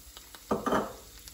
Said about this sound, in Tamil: சின்ன ஸ்பூனில் ஒரு 2 ஸ்பூனு கடலைப்பருப்பு லேசாக வதக்கிக்கோங்க